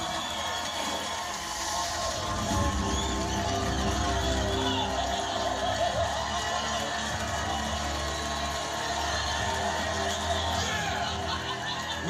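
A crowd of old competitors and families cheers and whoops in a Lego Masters workroom for the final three teams, a dense, continuous roar of voices filling the room.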